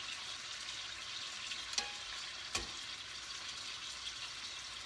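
Country ham frying in a pan over medium-high heat gives a steady, close sizzle, broken by two sharp clicks from the pan or utensil as the meat is turned, with no talking.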